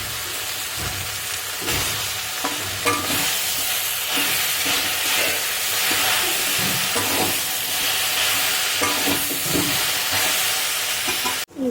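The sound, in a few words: stirring chalta pickle while adding jaggery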